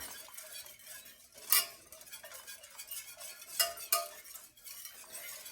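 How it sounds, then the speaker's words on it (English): A whisk stirs roux in a pot for shrimp étouffée, a soft, steady scraping swish with a few light metallic clinks against the pot, quiet and close. "you want to whisk out all the chunks so that it's not clumpy."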